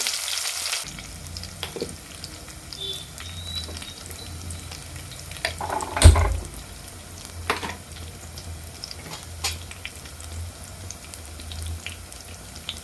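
Onion frying in coconut oil, in a clay pot with mustard seeds already popped, gives a steady, close sizzle. A louder burst comes midway, probably from stirring, and no one speaks.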